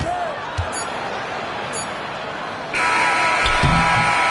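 A long electronic buzzer sounds at the end of the first half of an NBA game between the Grizzlies and the Thunder, a loud sustained tone that comes in near the end over steady arena crowd noise, with ball bounces and squeaks beforehand.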